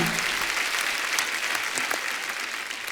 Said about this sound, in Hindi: One of the best actors के लिए एक बार जोरदार तालियां।